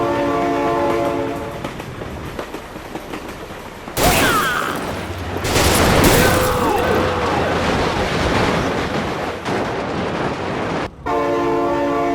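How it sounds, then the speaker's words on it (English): A train in the BeamNG driving game rushes past, loud and close, with a sounding horn at the start and end and a rumbling, clattering passage between. "my god, train!"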